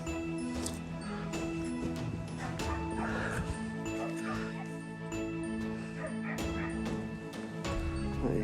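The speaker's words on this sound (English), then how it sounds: "One excitable dog." An excitable dog in the garden of a house for sale barks and yips repeatedly, with whimpering between barks, close and continuous over steady background noise.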